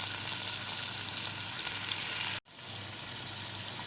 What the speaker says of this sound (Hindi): इसको ऑयल में अच्छे से फ्राई करते हैं तो इसका कलर थोड़ा सा चेंज हो जाए।